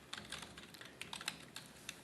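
Typing on a computer keyboard while writing a C++ program: quiet, scattered key clicks at an uneven pace over a soft background hiss, no voices.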